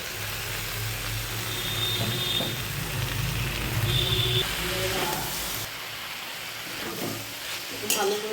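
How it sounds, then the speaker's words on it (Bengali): Malabar spinach leaves are stirred into a pan of frying prawns, giving a soft sizzle and hiss with scattered scrapes and small clinks as things settle, moderately close and fairly quiet with no speech. "দেখো বন্ধুরা, তরকারিটা ভাজা ভাজা হয়ে এসছে, এবার পুঁই শাকের পাতাগুলো দিয়ে দেবো।"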